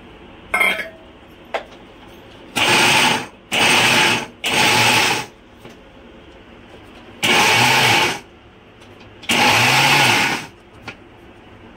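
A kitchen mixer grinder coarsely grinds corn kernels for fritters in six short, loud pulses of roaring motor whine separated by quiet gaps, with a few clicks and taps between bursts.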